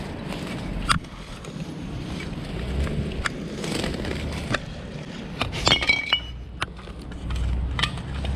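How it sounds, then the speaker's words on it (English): Litter is picked up outdoors among brambles, with scattered sharp clinks and knocks of glass bottles over a rustling, windy background. "Just picking up litter like this, just the sound of picking it up"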